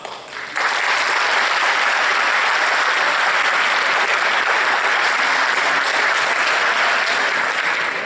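An audience at a centenary ceremony applauds as TVI journalist and presenter Patrícia Matos is invited up, the clapping bursting in after half a second and holding as a loud, dense, steady wash to the end.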